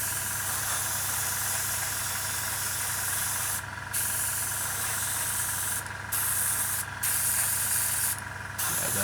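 An airbrush sprays a coat of paint onto a 1/48 Brewster Buffalo scale model, giving a steady close hiss over a low compressor hum. A few short pauses break the hiss.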